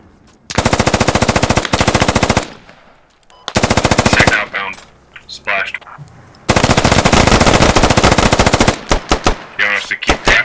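.50 caliber machine gun firing in the tactical shooter Squad, loud sustained automatic bursts in several long strings with short pauses, other battlefield noise and brief radio-style chatter between bursts.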